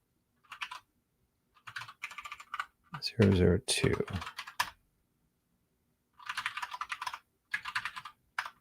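Someone types in bursts on a computer keyboard, quick clusters of close clicking separated by pauses, with a short spoken phrase in the middle.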